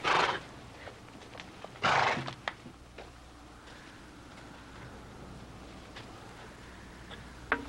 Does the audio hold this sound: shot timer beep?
no